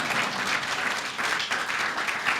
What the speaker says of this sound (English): somebody's going to clap for that question